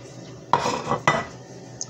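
Beef and broccoli with scallions and brown sugar are mixed in a pan, giving two close scraping clatters of a utensil against the metal, then quiet.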